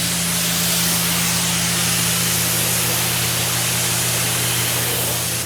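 Steady hiss of a water spray rinsing a Porsche 718 GT4 during a driveway wash, a loud continuous broadband rush with a low hum beneath, unbroken and with no talking.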